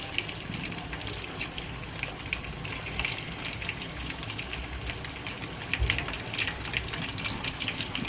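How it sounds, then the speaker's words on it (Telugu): Chicken leg pieces fry gently on a low flame in a homemade pan, giving a steady, soft sizzle and bubbling that runs on evenly throughout, with no voices over it. "ఇక సిమ్లో వేగుతూ ఉంటాయి చూడండి."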